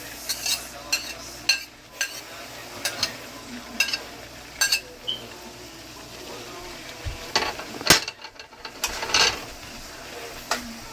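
Onions, green pepper and garlic stirred in a pan for steak and cheese, with irregular scraping and clicking strokes of a utensil over a faint sizzle.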